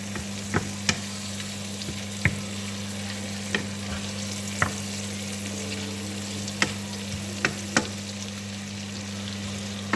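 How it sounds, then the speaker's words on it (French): Onions simmering and frying in a pan, meant to stay crisp, with a steady close sizzle over a low steady hum and regular sharp clicks of a spoon stirring. "Voilà, on va laisser mijoter un peu les oignons."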